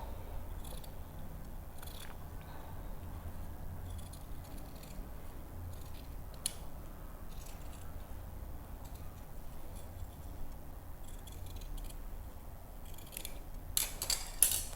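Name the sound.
scissors cutting out a paper neckline pattern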